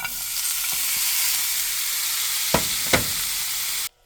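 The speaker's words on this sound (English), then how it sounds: "When this starts to boil, lower it to medium. Add the frozen peppers." Frozen peppers sizzling in hot oil with onions, a loud continuous hiss with two clear knocks near the end before it cuts off abruptly.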